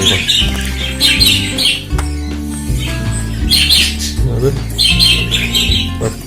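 Budgerigars squawk and chirp in repeated bursts while eating, in an aviary, with a person talking over the birds throughout.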